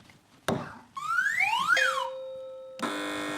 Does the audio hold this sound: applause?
no